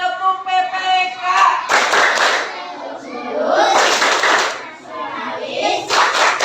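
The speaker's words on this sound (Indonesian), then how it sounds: "Oke, ayo mulai tepuk PPK." An Indonesian classroom performs the rhythmic 'tepuk PPK' clapping routine, with sharp bursts of group clapping alternating with the class chanting and speaking together, loud and close throughout.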